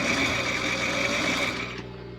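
A sewing machine stitches steadily along the double-folded narrow hem of a strapped dress with a ruffle, a dense, even whir that holds for about two seconds and then eases off as the machine slows.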